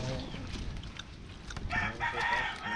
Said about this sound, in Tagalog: Para lumipad ang manok.